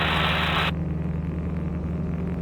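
A Rotax engine drones steadily on a Falke 25c motorglider in flight, a constant close rumble heard inside the cockpit under a broad hiss of wind that drops away early on, with no talk.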